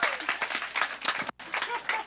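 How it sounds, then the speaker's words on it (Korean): An audience at a church youth retreat sermon claps in a brief burst of applause that drops out for a moment, then resumes, with a voice heard alongside. "오늘 박수 한번 쳐줘야 되는 거 아닙니까?"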